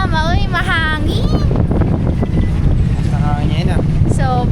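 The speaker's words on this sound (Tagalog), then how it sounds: "Uy, mahangin." Strong wind buffets the microphone outdoors on a beach in Boracay, a loud steady roar running throughout while people talk over it.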